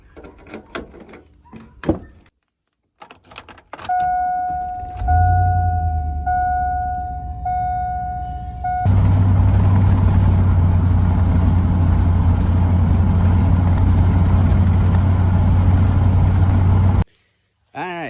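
Lifted 2000 GMC Sierra pickup starts up after door and interior clatter, with a chime sounding, then the engine settles into a loud steady drone as the truck drives off. A voice speaks near the start.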